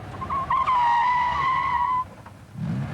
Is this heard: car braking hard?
yes